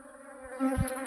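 A flying swarm of honey bees gives off a short, steady, droning buzz that swells slightly near the end, heard close.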